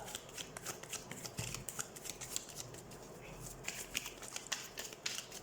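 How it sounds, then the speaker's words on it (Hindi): Tarot cards are shuffled close up, a continuous papery riffle and slide with sharp flicks throughout, quiet and alone. "कार्ड शफल कर लेते हैं।"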